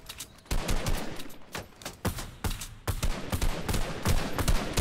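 Rapid video game gunfire in a multiplayer battle, dense bursts of sharp shots fired in quick succession, loud and close, with brief pauses between volleys and no voices.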